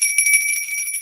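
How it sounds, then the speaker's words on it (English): A bell rings once, a clear, high metallic tone that sustains evenly for about a second at moderate loudness. "I'm going to ring the bell"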